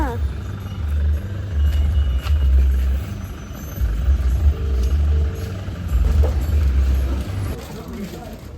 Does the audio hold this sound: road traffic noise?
yes